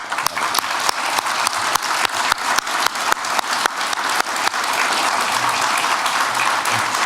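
An audience at a city council swearing-in ceremony in Sorel-Tracy applauds the newly sworn-in council members. The claps are loud and dense at first and then settle into a steady wash of applause.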